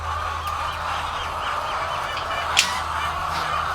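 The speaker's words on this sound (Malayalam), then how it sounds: "ആ വെള്ളമുട്ട ഉൽപ്പാദിപ്പിക്കുന്ന കോഴികളാണ് കേട്ടോ" White-egg laying hens fill a poultry shed with a dense, continuous chorus of clucking and calling, many birds at once at an even level, with one brief sharper note standing out.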